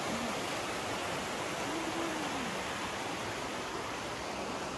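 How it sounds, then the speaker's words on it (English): A river runs along the foot of a castle hill in Dunblane, Scotland, giving a steady, broad rushing wash that stays even and moderately close for the whole stretch. "So just down at the foot of the castle, the river running along."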